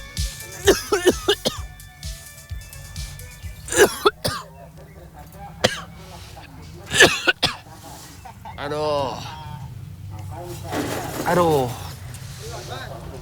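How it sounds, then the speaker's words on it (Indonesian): Repeated harsh coughs and throat clearing from coconut-shell charcoal ash come in bursts, close and loud, with some speech and scattered noises in between. "abunya, wah, membuat saya batuk-batuk terus pemirsa"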